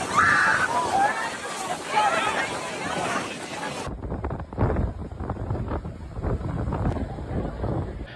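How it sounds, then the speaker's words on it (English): Strong wind in the Palm Springs desert buffets the microphone in loud, gusting roars, with a person talking over it in the first half before the rushing noise carries on alone. "It is extremely windy here in the Palm Springs desert region."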